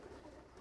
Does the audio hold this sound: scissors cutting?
no